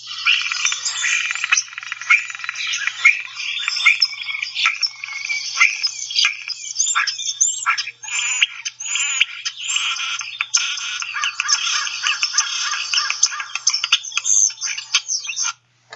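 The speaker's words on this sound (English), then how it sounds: "here's some vocals of the European starling" European starling vocalizing: a dense, continuous run of squeaky chirps, clicks, rattles and whistles, bright and close, with brief pauses near the end.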